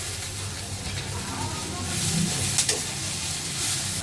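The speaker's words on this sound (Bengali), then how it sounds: "ভেজে নিচ্ছি পেঁয়াজ, রসুন আর কাঁচামরিচ" Onion, garlic, green chillies and coriander leaves fry in a pan with a dense, steady sizzle and hiss close by, growing a little louder partway through, with a couple of faint clinks.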